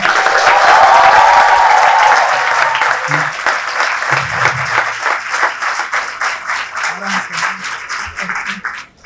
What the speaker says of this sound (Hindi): तो जोरदार तालियां एक बार फिर से।